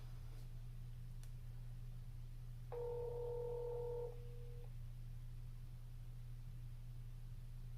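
A phone call ringing on a Pixel 2, a single short electronic ring tone of about a second and a half that sits faintly over a steady low hum and background hiss.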